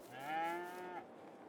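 A single drawn-out moo from an Angus cow in Farming Simulator 22, close and clear, rising then tailing off after about a second, with no talking.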